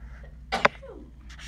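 A single sharp sneeze bursts out close by against a quiet background, followed by a short breath.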